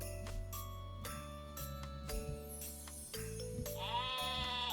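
Synthetic sheep bleats from the Terracards video game ring out in short repeated calls over jingling game music and chimes, fairly quiet in the mix.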